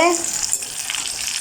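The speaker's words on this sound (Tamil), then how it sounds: "இதை நல்லா பொரிக்கணும்." Loud, close crackling and spitting of eggplant frying in hot oil in a pan, a dense continuous sizzle after a brief clink at the start.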